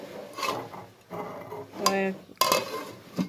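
Metal lid clanks onto a cooking pot on a stove as kala bhuna beef cooks, a few sharp clinks and scrapes close by in short bursts.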